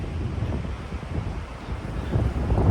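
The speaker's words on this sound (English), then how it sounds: "just the wind. I mean, it's whipping pretty good." Strong wind gusting through woods during an archery deer hunt, a continuous rough rumble and whoosh buffeting the microphone, loud and steady with no voices.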